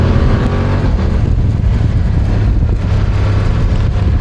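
A BMW F900R motorcycle accelerates hard through second gear while being ridden, its engine roar loud, close and steady with broadband wind rush throughout.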